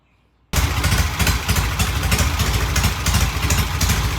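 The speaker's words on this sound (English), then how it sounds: "All right, I adjusted the idle mixture. I adjusted the idle speed. It sounds really good." Vintage British motorcycle engine idling after idle mixture and speed adjustment: sudden start into a loud, close, steady mechanical rumble with an even clattering pulse throughout, no talk.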